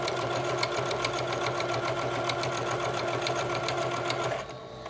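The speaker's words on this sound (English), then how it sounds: "We're just going to sew it." A sewing machine stitches fabric for a reusable snack bag, a fast, even mechanical chatter of needle strokes running steadily before stopping abruptly near the end.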